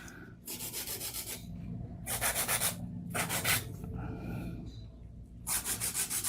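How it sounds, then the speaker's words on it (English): A 100 grit file rubbed back and forth across an acrylic nail, close rasping strokes in a steady rhythm of repeated bursts with short pauses between them. "I don't file that much. Just back and forth."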